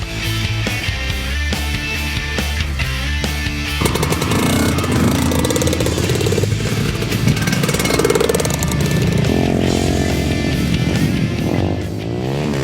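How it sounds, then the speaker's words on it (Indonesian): Trail motorcycles ride along the beach shore of Siompu island in Buton Selatan, their engines a loud, continuous close-up roar that swells and revs steadily for the whole stretch. "Deru suara motor memecah keheningan. Sejumlah pesepeda motor trail beraksi di pesisir pantai."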